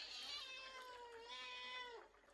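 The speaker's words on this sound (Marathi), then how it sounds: "ह्या बघा मांजर नुसता पायाखाली येत राहता." A cat meows in a home kitchen near the cook's feet during fish preparation, one drawn-out plaintive meow that rises and falls, close and clear with faint background hum.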